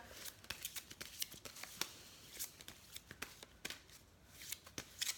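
Oracle cards are shuffled for an angel-themed card reading, giving a run of quick papery riffles and soft slaps that repeat at an uneven pace, close and fairly quiet, with no voices.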